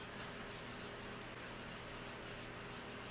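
A wooden chopstick rubbed back and forth along the flat of a kitchen knife blade to polish it, producing a soft, continuous rasping friction sound, faint and steady with no talking.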